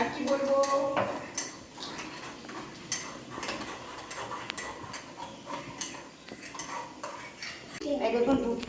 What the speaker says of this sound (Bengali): সেই দুধটাকে চামচে করে নেড়ে ছেড়ে নিচ্ছি